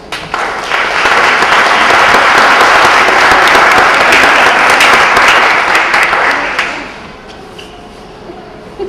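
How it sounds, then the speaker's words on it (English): A crowd at a Festival of Lights event applauds loudly and steadily for several seconds, then the clapping fades out, leaving a quieter room. "So let's give all those folks a nice round of applause."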